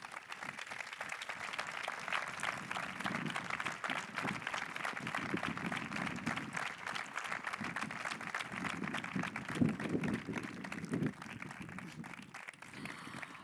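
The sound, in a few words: audience applause for honoured guests on stage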